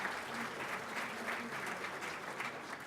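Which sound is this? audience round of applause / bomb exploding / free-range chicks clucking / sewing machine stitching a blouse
audience round of applause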